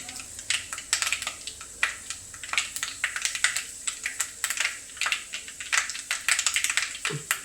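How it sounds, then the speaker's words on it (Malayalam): Rapid, irregular crackling and popping of fenugreek seeds spluttering in hot oil, a dense stream of small sharp clicks with no talking. "ഉലുമയൊക്കെ ഒന്ന് ഫുള്ള് പൊട്ടി തീരട്ടെ"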